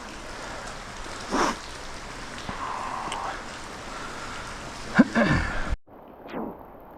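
Steady rain falls on a winter river during steelhead fishing on the Alsea, a constant hiss under brief splashing and movement, with a sharp knock near the end followed by a short quiet gap.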